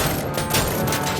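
Sustained gunfire in the video game Robocop: Rogue City, a dense, loud fusillade of rapid shots with booming impacts filling the whole moment, no pauses between bursts.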